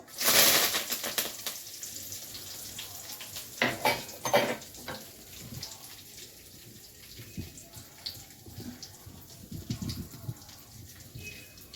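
Spices and curry leaves hit a hot pan for tempering, giving a loud burst of sizzle at first, then a softer ongoing fry with scattered clinks and stirring scrapes nearby, with no speech.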